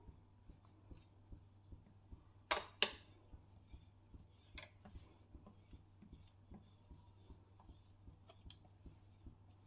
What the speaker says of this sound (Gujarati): આવી રીતે આપણે સરસ બધે વેલણ ફેરવી લેવાનું છે।